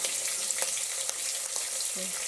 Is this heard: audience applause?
no